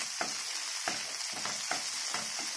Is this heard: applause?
no